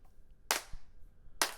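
A disco-mix clap sample with reverb, struck twice about a second apart, each hit sharp and bright with a short reverberant tail, isolated against near silence.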